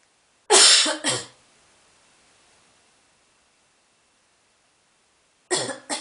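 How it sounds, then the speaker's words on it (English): Someone coughs twice in quick succession, loud and close, then after several seconds of near silence coughs again twice at the end. "Do you get very upset when I cough?"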